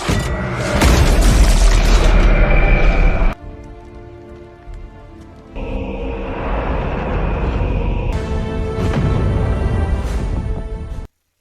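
A bombing explosion at a bridge in a war film: loud, dense roaring blasts and crackling debris, a brief quieter lull, then the heavy rumble surges back before cutting off.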